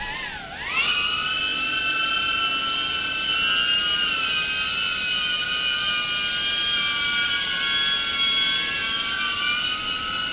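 A DJI Avata drone spools up and lifts off, its propellers giving a loud, high, steady buzz with a brief dip in pitch at the start, then holding a sustained whine close by, with no speech.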